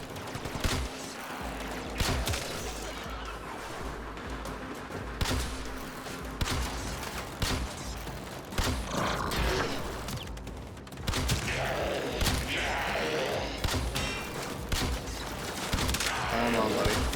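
Rapid gunfire from the video game Warframe, with dense bursts of shots and short explosive pops running continuously and loudly throughout, while a voice talks at moments over the action.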